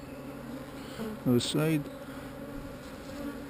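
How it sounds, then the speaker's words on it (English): Honey bees hum at an open hive as a low, steady buzz in the background, while someone speaks a few words over it. "Got a lot of bees."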